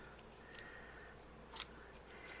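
Quiet snips of scissors cutting artists' paper during a craft session, a faint scattering of small cuts with one slightly louder snip near the end, close but soft.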